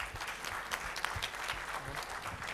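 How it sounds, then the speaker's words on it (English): Steady applause from an audience, dense clapping that fills the whole stretch at a fairly even level with no voices on top. "give her a big round of applause"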